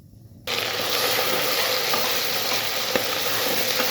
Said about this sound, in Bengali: জিরে, রসুন সব একসাথে বেটে নিয়ে ভালো করে কষিয়ে নিচ্ছি।